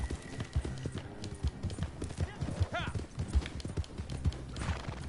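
Horse hooves clip-clop in the Red Dead Online video game as a steady rhythm of hoofbeats under near-constant talking, joined partway through by a brief rising whinny.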